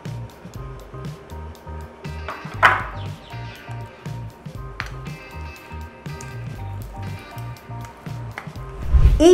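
A yogurt face pack, thinned with a little yogurt water, is mixed in a bowl, giving steady, rhythmic, close squishing strokes that repeat evenly throughout, with a louder smack near the end.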